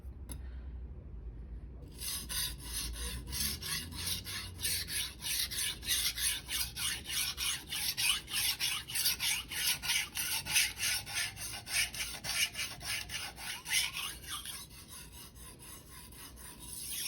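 A Shirogami 1 bunka knife is stroked across a Rika 5000 whetstone in a steady back-and-forth rhythm. The gritty rasping is close and fairly quiet, with no talking.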